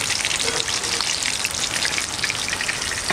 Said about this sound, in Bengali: কত লাল লাল করে মাছগুলো ভাজছি